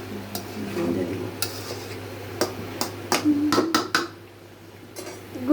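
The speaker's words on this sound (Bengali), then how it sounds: "এখন আরেকটা নাড়া দিয়ে দিলাম" A spoon stirs fish curry in a pot, with a run of metallic clinks and scrapes against the pan over a low sizzle, knocks bunching up toward the middle before a quieter stretch; close and fairly loud.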